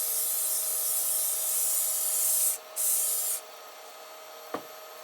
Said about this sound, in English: I put some paper towel around the Z bearings to protect it while I spray this second coat.